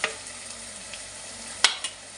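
Chopped onion, ginger and garlic sizzle steadily in a pan for a Kottayam-style fish curry, with a spoon scraping and stirring now and then over the constant frying hiss.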